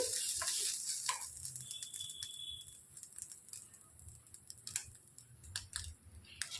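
Sajja boorelu, millet-flour sweet dumplings, sizzling faintly in hot oil and ghee, a soft continuous crackle with scattered small pops and ticks and no voice.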